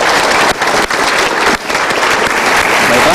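A studio audience at an Indonesian TV talk show breaks into loud, dense applause that fills the whole moment, with brief dips in intensity.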